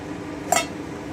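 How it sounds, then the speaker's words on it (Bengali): A metal lid lifted off a cooking pot of kachki fish chorchori gives a single short bright clink, close and clear, over quiet kitchen background. "আমি 10 মিনিট পরে ঢাকাটা তুলে নিচ্ছি"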